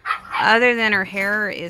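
A dog barks and whines excitedly in high, drawn-out yelps while someone speaks over it nearby.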